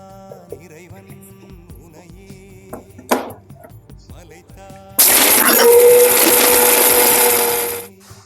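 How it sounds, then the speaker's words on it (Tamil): A mixer grinder roars to life after a few light clatters, grinding roasted spices to powder, running loud and steady for about three seconds before winding down, close by. "ரோஸ்ட் பண்ண எல்லா பொருளையும் ஒரு மிக்ஸி ஜார்ல மாத்தி பவுடர் பண்ணி எடுத்துக்கலாம்."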